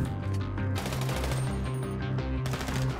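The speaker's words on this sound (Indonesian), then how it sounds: "Asik ya senjata militer suaranya." Military weapon gunfire in GTA 5 zombie survival, a steady rapid automatic rattle sounding loud and close, layered over a droning, rhythmic low background.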